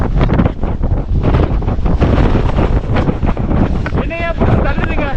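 Strong wind roars on a mountain top, buffeting the microphone in loud, continuous gusts, with a voice briefly audible beneath the rush.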